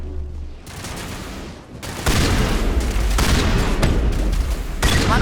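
Dense crossfire in Mass Effect Remastered, with loud, continuous rapid gunfire layered with heavy booms and overlapping bursts that intensify partway through.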